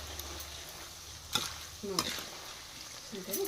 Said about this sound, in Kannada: ಇನ್ನೂ ಸುಡ ಎಣ್ಣೆ ಏನು ಕುದಿಯಾಕೈತಿ ಭಾಳ ಬಿಸಿ ಆಗೈತೆ ನೋಡಿ